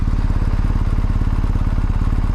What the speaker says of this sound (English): The bike has no girth to it, so you actually see the motor idling